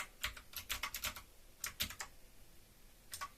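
Fingers type a password on a computer keyboard, quick bursts of crisp key clicks in uneven clusters with short pauses, close and fairly quiet.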